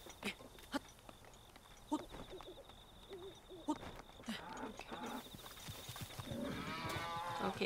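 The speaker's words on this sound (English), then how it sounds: "Wait, that's just a cow." A cow in Zelda: Breath of the Wild gives a low moo among scattered game sounds and footsteps, heard faintly and fairly distant, with a player talking at times.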